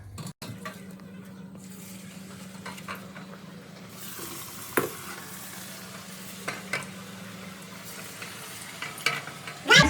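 Dhebra, a Gujarati fried flatbread, sizzling steadily in hot oil in a home kitchen, a constant low frying crackle with occasional clinks and stirring knocks, close and moderately loud with no talking.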